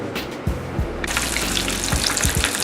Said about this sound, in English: Now all that's left to do is just deep fry the mofos and chow down.